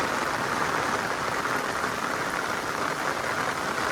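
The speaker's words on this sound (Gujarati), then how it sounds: "વરસાદ એટલે વરસાદ છે હો ભાઈ" A dense, steady roar of heavy rain drums down in the Gir forest, loud and unbroken with no voices.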